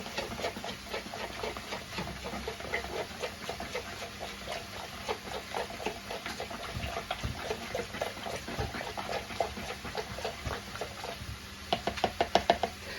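Chilli stirred in a pot sounds as rapid, repeated knocks and taps of a spoon against the pot's sides, steady and close throughout, with a quicker burst of knocking near the end.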